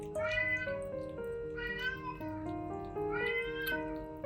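A badly injured rescued stray cat, recovering indoors, gives three drawn-out, plaintive meows in a steady rhythm, close and clear, with faint water-like background noise.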